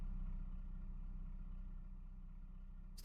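A homemade off-road vehicle's engine idles quietly outdoors, a low, steady rumbling drone with faint mechanical clatter, close by and unbroken, with no voices.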